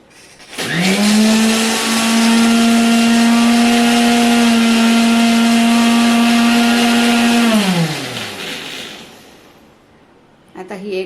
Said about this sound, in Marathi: आता आपण आधी मिक्सरवरती ही अंडी फेटून घेऊया दोन मिनटं फिरून घ्यायचं आहे मिक्सर